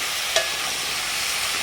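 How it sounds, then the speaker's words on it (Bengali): Potatoes fry in a hot pan with a steady, loud sizzle, broken once by a brief stirring scrape, and no voices over it. "একটু ভালো করে ভেজে নেওয়া হবে।"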